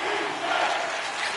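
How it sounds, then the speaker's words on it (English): Hockey arena crowd in the EA Sports NHL 2026 video game, a steady loud roar of cheering and shouting that swells slightly mid-way, dense and continuous with no clear voices standing out. "You can feel the energy in this crowd."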